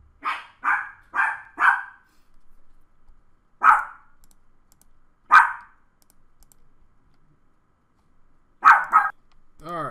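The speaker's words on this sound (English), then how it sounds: "dog just going nuts" A dog barks at neighbors' visitors in sharp bursts: a rapid run of four, then single barks spaced a couple of seconds apart and a final double, heard from nearby with faint keyboard clicking in the quiet gaps.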